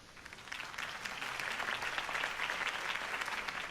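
Crowd applause at a political campaign rally in the Batman Telltale Series video game, a broad wash of many clapping hands heard at a distance, swelling slightly and holding steady.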